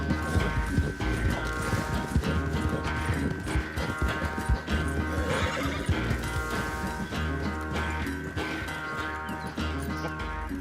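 A horse neighs loudly over rapid clip-clopping hoofbeats in the video game Red Dead Redemption 2, with a steady mechanical hum beneath.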